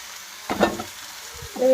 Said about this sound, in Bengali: তো এখানে চাউমিনগুলো সব ভেজিটেবলে ছেড়ে দিলাম